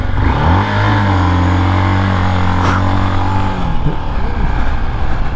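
A BMW F650 motorcycle engine revs and drones close by, holding a steady pitch before dropping away, with a voice speaking over it.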